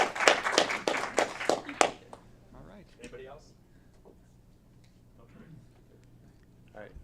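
Brief, distinct clapping from a small group at an Aurora committee meeting honouring award winners Yahir and Taline. It lasts about two seconds and fades quickly, and then a person speaks quietly in the room.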